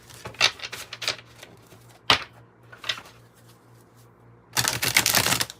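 Tarot cards being shuffled by hand make quiet, intermittent papery flicks and clicks, with a few isolated snaps and a longer, denser riffling burst at the end; no one speaks.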